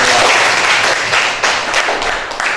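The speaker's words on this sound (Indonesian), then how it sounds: "Beri tepuk tangan yang meriah kepada kelompok 2" Loud classroom applause for a student discussion group, a dense, steady patter of many hands clapping throughout, fading slightly near the end.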